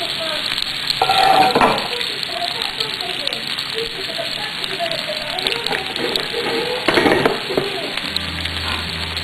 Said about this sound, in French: je vais m'occuper de faire sauter mes légumes. Donc dans une poêle ou un wok bien chaud, vous versez de l'huile